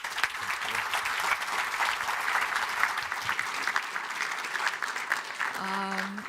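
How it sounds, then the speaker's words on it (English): A conference audience at a plenary session breaks into sustained applause, a dense wash of clapping from many hands that holds steady throughout, with a brief voice heard near the end. "can we give them another round of applause?"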